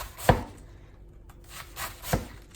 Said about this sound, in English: I basically just cut them into smaller chunks